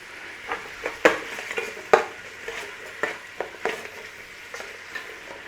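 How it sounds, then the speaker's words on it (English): Onion and garlic sauté in a pot for chicken noodle soup, giving a continuous sizzle broken by regular scraping stirs and clinks of a utensil against the pot, close and fairly loud, with no talk. "So we're just sautéing off that onion and garlic in there."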